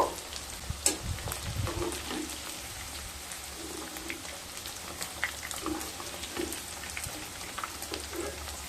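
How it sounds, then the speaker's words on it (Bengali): Paneer cubes fry in oil with a quiet, steady sizzle and crackle, punctuated by a few soft stirring knocks near the start, close and low in level. "পনিরগুলোকে হালকা ব্রাউন কালার করে ভেজে নিতে হবে।"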